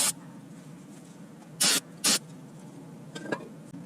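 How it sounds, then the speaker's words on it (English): Brake cleaner sprayed onto front brake parts of a 2007-or-later Toyota Tundra during a rotor replacement, two short loud hissing bursts close by, followed by faint softer spritzes, with no talking. "Spray with brake cleaner to remove harmful dust."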